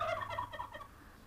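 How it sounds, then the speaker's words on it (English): A turkey gobbles in a quick burst of rattling, warbling calls, close by and fairly loud, then trails off into quiet. "You can hear the last remaining turkey in the background."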